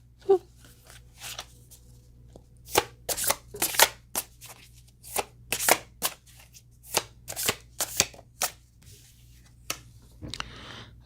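Tarot cards being shuffled and drawn make a series of crisp, papery slaps and riffles, close to the ear, spaced irregularly over several seconds against a faint low hum.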